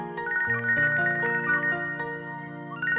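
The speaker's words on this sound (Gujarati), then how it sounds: "લે ભાઈનો ફોન." A mobile phone rings with a loud, clear melodic ringtone for an incoming call, its bright repeating notes filling about three seconds with no voices over it.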